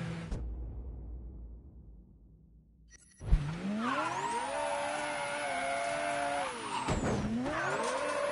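A car in the video game Mafia III starts with a thump, then its engine revs hard. Tires squeal loudly and continuously as it accelerates and dips briefly when shifting.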